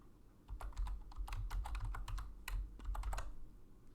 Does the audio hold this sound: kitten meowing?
no